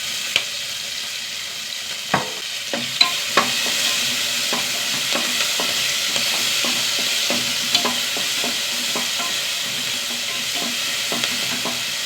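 Onion, three green chillies and a small piece of ginger sizzle steadily in hot oil, with repeated spoon-against-pan clinks and scrapes as they are stirred, close and alone with no talk.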